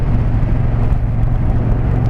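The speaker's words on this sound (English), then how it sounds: "it's a bit windy this way." Steady wind buffeting a GoPro Hero 5 Session action camera outdoors, a continuous low rumble and roar with no talking over it.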